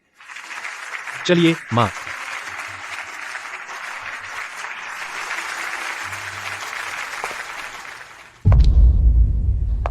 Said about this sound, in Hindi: अब चलिए सबसे गर्मजोशी से तालियां बजाएं